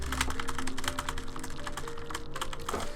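Rapid mouse clicking in Cookie Clicker, a dense run of quick clicks close and steady throughout, over faint game music with no talk.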